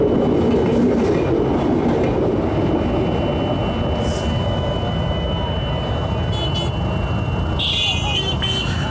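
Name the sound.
train passing by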